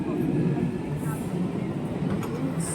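A London Underground train rumbles steadily at a station, with a low rolling roar and faint high squeals from the wheels and brakes, heard up close.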